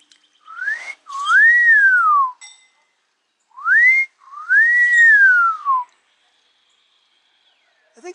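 A person whistles a bird imitation meant to mimic a Marilyn Monroe bird of the Amazon jungle: rising slides into long arched glides, two phrases in clear repeated pattern, close and loud, followed by silence.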